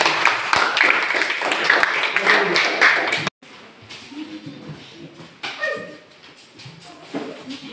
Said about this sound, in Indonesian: Mari kita tepuk tangan untuk kelompok